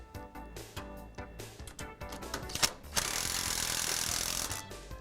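Self-threading screws being driven to fasten bracket hardware for a Martin Fingershield door-guard system: clustered clicks and mechanical ratcheting taps, then a steady loud whirring buzz for the last two seconds like a power driver running.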